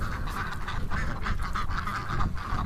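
A large flock of over a thousand ducks on a windy day, dense overlapping quacks and honks forming a continuous loud chorus nearby, with wind noise underneath and no talking.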